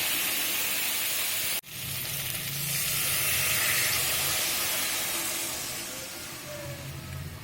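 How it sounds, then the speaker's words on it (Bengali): Water poured into a pan of fried potatoes sizzles at once, a sharp sudden hiss that settles into steady frying and steaming noise, close and without voices. "আলুটা ভাজা হয়ে গেছে। এবার দিয়ে দেবো জল।"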